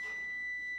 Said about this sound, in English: Shut my timer off.